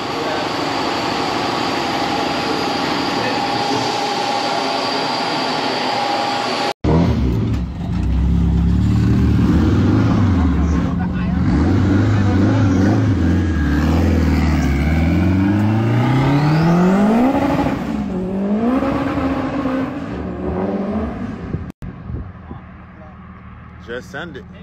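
A turbocharged Honda K20A engine in a coupe runs loud on a dyno, first droning steadily, then revving up and down through rising and falling pulls with a brief cut-off, and people talk near the end.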